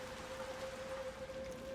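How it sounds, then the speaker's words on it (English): Steady rain in Little Nightmares II, a soft continuous hiss with a faint constant tone underneath and no voices. "there's so much water right now with the rain"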